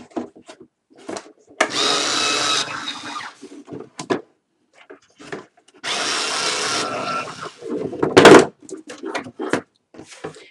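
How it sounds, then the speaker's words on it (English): Multi-tool cutter splitting the seams of a cardboard shipping box, with two sustained rough buzzing passes of about a second each, close and loud, separated by quiet handling noises and a sharp knock. "Then I am going to take my handy dandy multi-tool cutter. We are just going to split the seams here."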